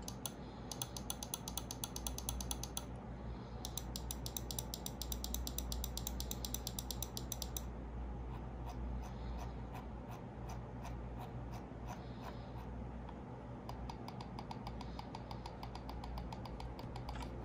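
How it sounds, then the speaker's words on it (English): Rapid clicks of a Logitech G102 gaming mouse with Omron switches in quick bursts, then sparser single clicks over a steady low hum, close and fairly quiet. "So here is how the mouse click sounds."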